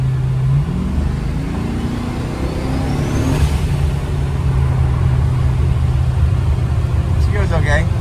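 A C4 Corvette with a swapped-in 4L80E automatic transmission cruises along, its engine holding a steady drone around 2000 RPM with a brief rising pull early on, heard continuously from inside the car.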